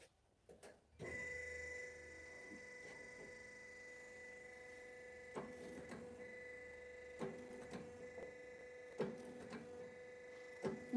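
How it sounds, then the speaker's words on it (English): A full hydraulic waste motor recycling machine runs steadily with a constant mechanical hum and tonal whine, punctuated by intermittent clanks and knocks of metal parts being worked, close and without voices. "The machine is full hydraulic and safe and efficient."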